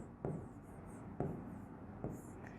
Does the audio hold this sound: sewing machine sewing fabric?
no